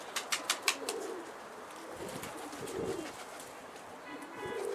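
Pigeons cooing near a rooftop loft, a quick run of four or five soft rhythmic coos at the start, then quieter scattered cooing against faint outdoor background, no talk.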